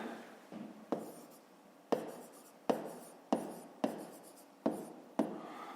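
A pen writes an equation by hand on paper for a fifth-grade math exercise, producing a series of short scratchy strokes and taps, close and quiet, with no talk.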